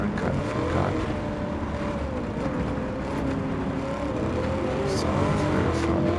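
Simulated car engine in Gran Turismo 7 racing on a snowy track, a steady droning engine note rising and falling with throttle throughout, loud and continuous with faint tire noise.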